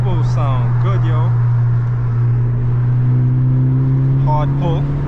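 Turbocharged Honda Civic Si engine making a hard acceleration pull in traffic, heard as a loud, steady, close drone throughout, with a man's brief remarks over it at the start and end.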